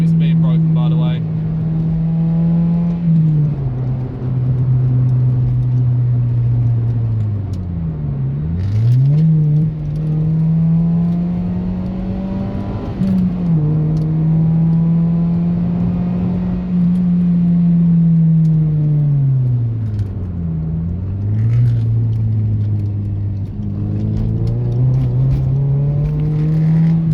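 Toyota Yaris hatchback pulls steadily along a country lane, its engine droning at a constant pitch, then dipping twice as gears change before climbing again, heard from inside the car with a faint voice beneath.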